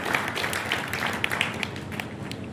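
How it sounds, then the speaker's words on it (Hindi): Sustained applause from an audience at a book launch, a steady wash of many hands clapping at moderate volume, with a few sharper claps standing out. "जोरदार तालियों से अभिनंदन होना चाहिए।"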